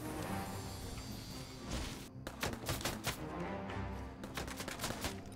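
Pistol gunfire in a shooter video game, a flurry of sharp cracking shots in quick irregular bursts over a dense, noisy game background, fairly loud and close.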